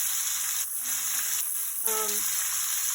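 Beef browning in an Instant Pot for birria gives a loud, continuous close sizzle, with a couple of brief dips and faint tonal scraping as the meat is moved.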